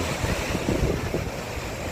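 Steady, loud rush of falling water, a continuous roaring wash with no voices.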